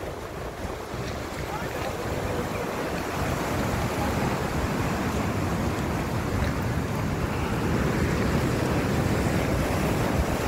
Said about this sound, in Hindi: उमर पानी बहुत तेज है, उमर ऊपर आ जाओ,